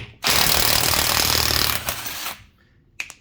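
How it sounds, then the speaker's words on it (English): Impact gun loosening a lug nut on a 2015 Subaru XV Crosstrek rear wheel, one loud continuous rattling hammer burst of about two seconds, close up, then a couple of faint clicks. "benefits of having an impact gun, you don't need to loosen the lug nuts"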